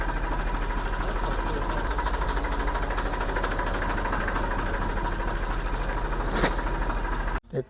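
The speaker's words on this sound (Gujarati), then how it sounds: "ટ્રેક્ટર ખેતરમાં પૂગે" A tractor engine runs in a farm field with a steady low throbbing chug, close and constant for several seconds, before cutting off abruptly near the end.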